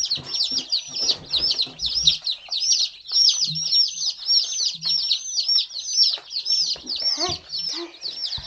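Newly hatched chicks from Cackle Hatchery cheep continuously in a dense, high-pitched chorus of rapid overlapping peeps, close by and loud, with faint handling rustles underneath.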